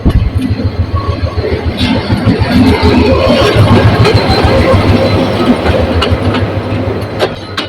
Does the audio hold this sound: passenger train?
yes